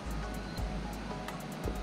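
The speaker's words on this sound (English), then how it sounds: "You can hear a big waterfall" Steady, heavy rushing water roars continuously from a large waterfall close at hand on the Presque Isle River in Michigan's Upper Peninsula, with a deep rumbling undertone.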